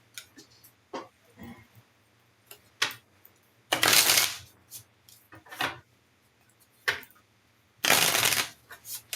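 A tarot card deck shuffled close up in two loud riffling bursts, with scattered soft card taps and clicks in between and no talk.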